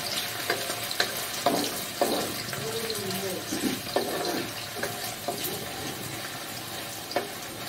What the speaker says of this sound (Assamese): প্ৰথমতে আলুখিনি অলপ ভাজি লওঁ।